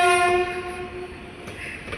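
A loud, sustained train horn blares for about a second over the rumble of a train, then fades into rolling rail noise and clatter.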